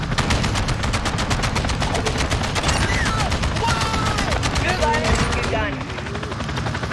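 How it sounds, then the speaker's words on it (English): Rapid automatic cannon fire from a helicopter gunship's chopper gun in Modern Warfare 2, a loud, continuous stream of shots with dense, even rhythm over about seven seconds, with faint voices and game effects layered underneath. "Yeah, this chopper gun is way better."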